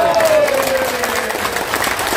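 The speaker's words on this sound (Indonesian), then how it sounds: "Tepuk tangan." Applause from an audience at an ITB alumni declaration event, a dense, steady wash of clapping from start to finish with some faint voices mixed in.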